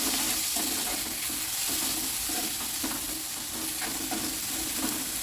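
Onions with salt sizzle in oil at a steady, moderate level, broken by intermittent stirring and scraping sounds; no one speaks.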